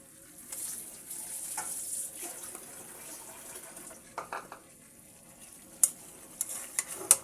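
Rohu fish with potatoes and tomatoes stirred in a pan, giving soft scraping and clattering under a low sizzle, with a few sharp utensil knocks near the end.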